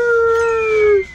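A boss in the video game Red Ball 4 gives one loud, sustained dog-like howl with a steady tone that slides gently downward before cutting off, close and clear with no talk over it.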